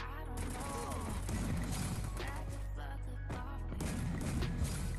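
Gunfire in a 4v4 shooter video game, a few sharp shots and mechanical clatter mixed into a busy game soundtrack, moderately loud.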